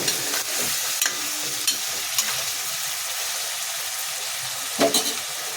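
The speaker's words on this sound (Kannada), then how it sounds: "ಕಟ್ ಮಾಡ್ಕೊಂಡಿರೋಂಥ ಬದನೆಕಾಯಿನ ಸೇರಿಸ್ಕೊಳ್ಳಿ. ಇದು ಸಹ ಚೆನ್ನಾಗಿ ಎಣ್ಣೆಯಲ್ಲಿ ಫ್ರೈ ಆಗಬೇಕು." Cut brinjal (eggplant) sizzles steadily in hot oil for vangi bath, a constant bright frying hiss broken by a few sharp scrapes and clacks of a stirring spoon against the pan.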